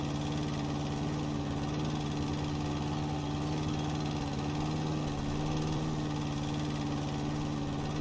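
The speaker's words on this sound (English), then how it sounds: "I swear I'm going to get better at this mower." A lawn mower engine runs steadily and close by in a garden, its mid-pitched hum and slight vibration holding even throughout with no talk.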